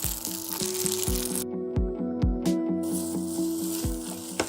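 Oil sizzling hard in a hot pan beside Pad Thai noodles with egg, a loud continuous crackling hiss broken by repeated metallic clanks of a spatula against the pan.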